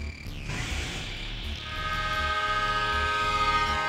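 A train approaches in the PS2 mech game Armored Core 2: Another Age, a rumbling rail roar that builds into a loud, sustained horn-like tone, with no talk over it.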